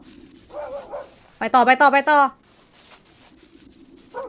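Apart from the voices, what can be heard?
dog barking in a video game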